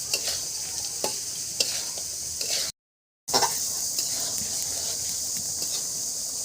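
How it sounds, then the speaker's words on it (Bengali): Fish heads frying in oil in a pan while being stirred, a soft continuous sizzle with scattered clinks and scrapes of a utensil, briefly cut to silence in the middle. "ভাজা ভাজা করে নেবেন?"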